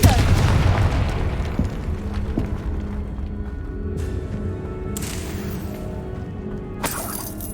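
Hogwarts Legacy's Confringo fire spell erupts in a heavy booming explosion with shattering crashes, followed by a long rumbling tail and further sharp bursts of game noise.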